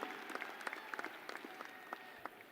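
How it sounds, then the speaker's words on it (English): Graduation ceremony audience applauding the supporting staff, a steady spread of many hands clapping with distinct sharp claps standing out, moderately distant and continuous throughout. "Big round of applause, graduates, to these supporting cast members."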